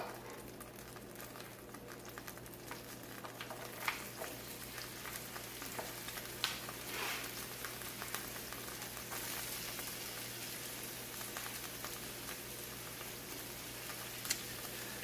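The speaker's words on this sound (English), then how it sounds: "Since I have so much onions here, I'm going to cook them down a fair amount" Onions frying in oil in a pan for a stuffed poblano dish, a soft, steady sizzle and crackle at moderate distance with a few faint clinks, no voices.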